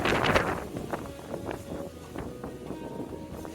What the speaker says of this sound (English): it's actually very windy.